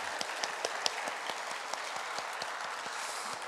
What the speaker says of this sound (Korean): 우리 격려와 축복의 박수 한번 보내겠습니다.